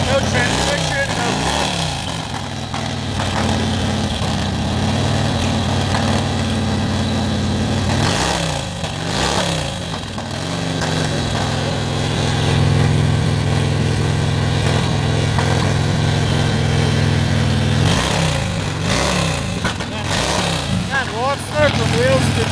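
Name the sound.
antique knucklehead motorcycle engines firing at board track race start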